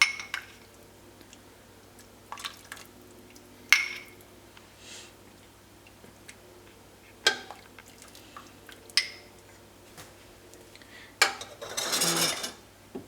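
Hot rasgullas are moved into a bowl in scattered moments of close metal clinks and spoon-on-dish knocks, with drips and a brief wet slosh of syrup near the end between quiet gaps.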